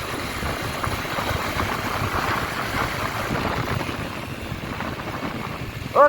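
A motorbike engine idles nearby with a steady, rough low rumble that holds even throughout, ending in a brief louder blip.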